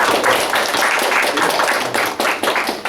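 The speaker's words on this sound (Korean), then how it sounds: "우리 박수 한번 환영합니다" A church congregation at a Sunday service in Auckland claps together to welcome visiting pastors: loud, dense, rhythmic clapping close by, with a faint murmur of voices.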